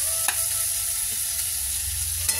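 Fried chicken being stir-fried with chow noodles in a pan, a continuous sizzle with a couple of sharp scraping stir strokes, close and alone.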